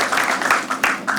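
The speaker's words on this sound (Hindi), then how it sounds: "विवेक के लिए ताली बजा सकते हो।" Brief burst of audience clapping for a comic named Vivek at a stand-up comedy show, a short patter of hands that swells and fades within about a second.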